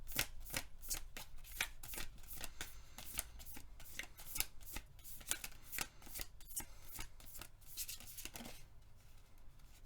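Tarot cards are shuffled by hand for ten seconds, a steady run of quick close riffling slaps and flutters that is quiet and continuous, with no talking.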